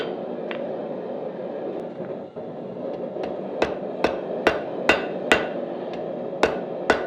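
A hammer striking hot steel on an anvil while drawing out a taper, about a dozen sharp ringing blows, sparse at first and then more regular, close and loud over a low background hum.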